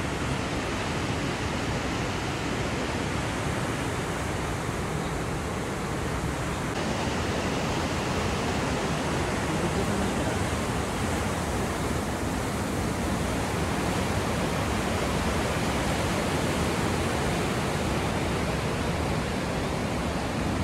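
Heavy river water rushing beneath a bridge in the hills around Tawang, a loud, continuous, even roar of flowing water that fills the whole stretch without a break.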